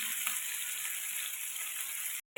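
Fish fries in a hot pan with a steady close crackling hiss that runs evenly and cuts off abruptly near the end.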